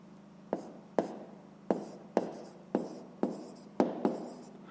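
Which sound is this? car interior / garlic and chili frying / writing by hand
writing by hand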